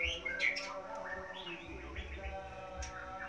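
Birds chirp and call inside a bird breeding camp in the Mekong Delta, with several short, faint tweets scattered over quiet background noise, some calls overlapping, no speech.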